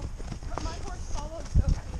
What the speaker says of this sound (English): My horse followed Sophie.